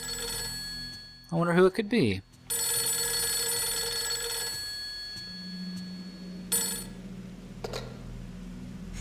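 In the video game Fatal Frame 3, a house telephone rings in two separated bursts under a low background hum, with a voice speaking briefly between them.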